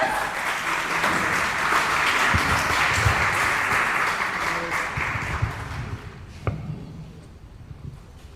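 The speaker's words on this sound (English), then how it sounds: "applause." Sustained applause from a crowd at a funeral service, steady dense clapping lasting about six seconds before tapering off, with a few scattered claps and faint murmuring at the end.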